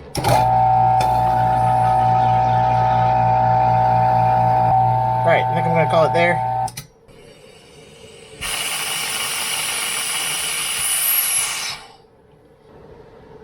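A vacuum pump degassing construction silicone drones with a steady tonal hum, then cuts off; afterward a bright hissing rush of air fills the space before fading. A voice speaks briefly.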